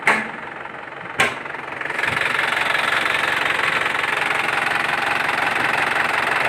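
Close, steady diesel engine rumble of an Isuzu Panther LS with a rattly knocking idle, preceded by a couple of sharp clunks, no talking.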